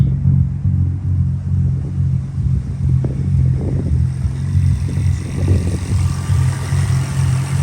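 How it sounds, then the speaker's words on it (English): A fully built BMW 335i on a standalone ECU idles roughly on its first start, a loud, close, uneven low rumble with pulsing surges and stumbles. "this thing's idling absolutely nasty"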